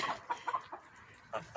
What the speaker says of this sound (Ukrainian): славний півник молоденький.